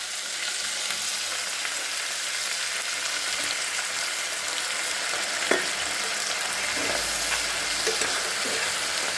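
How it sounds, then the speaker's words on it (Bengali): Cauliflower pieces with soy sauce for chili cauliflower sizzle steadily in a hot pan, with occasional scraping and stirring clatter over a constant loud frying hiss. "এটা একটু ভাজা হোক।"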